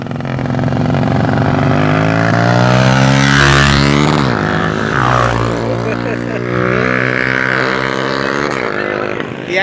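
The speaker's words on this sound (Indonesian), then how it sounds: "Kita masih melihat yang lepas landas pesawat-pesawat di sini pemirsa." Aircraft taking off from a small regional airport in Bukit Malintang, a loud, sustained engine roar that swells and shifts in pitch, with crowd noise underneath.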